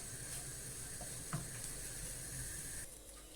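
Semolina roasting in a pan for helva gives a steady soft sizzling hiss, faint and continuous, with a light scrape or two from stirring.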